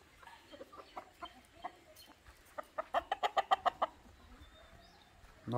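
Native breed chickens on a village farm cluck softly, then break into a quick run of about a dozen rhythmic, mid-distance clucks, with quiet rustling around them.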